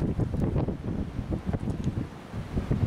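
Gusty wind on a beach buffets the microphone in uneven, rumbling bursts, with a faint wash of surf underneath.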